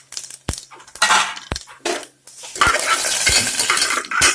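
Fennel seeds, cumin and black pepper splutter in a hot pan, opening with a few sharp metallic clinks of a utensil against the pan before a dense, steady crackle takes over, close and fairly loud, with no voices.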